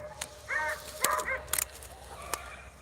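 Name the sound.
beagle pups baying while chasing a rabbit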